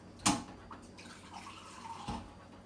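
Water poured into a pan of picadillo (taco meat filling) on the stove, a sharp splash at the start followed by a lighter trickle and another brief pour near the end.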